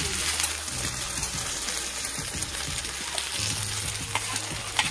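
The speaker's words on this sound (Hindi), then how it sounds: "फ्राई करिए जी मिला दीजिए अच्छा तरह से मिला दीजिए" Wild vegetables fry in a pan with a steady loud sizzle while being stirred, with scraping and clinking of the utensil against the pan throughout.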